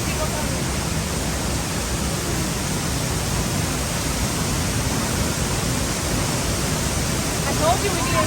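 A waterfall roars as a loud, constant broadband rush of falling water close by, unbroken for the whole stretch, with a faint hint of people nearby but no clear talk.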